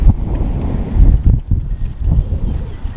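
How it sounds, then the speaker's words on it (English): Strong wind gusting outdoors on a hot, breezy day under fire-watch conditions, a continuous low rumbling roar with wind buffeting the microphone and swelling in gusts, close and loud. "And it's very windy today."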